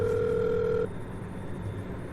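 Phone tone held steadily for under a second, then cutting off into quiet background hiss, suggesting a dial tone or keypad tone.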